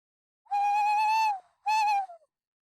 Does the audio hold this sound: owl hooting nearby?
yes